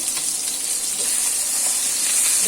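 Jhatka fish frying crisp in a pan of oil, a loud, dense, continuous sizzle and hiss close up with no voices.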